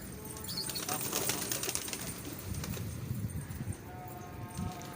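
A flurry of pigeon wings flapping close by as the birds are released in Karachi, with soft rustling and scattered clatter over a busy outdoor background.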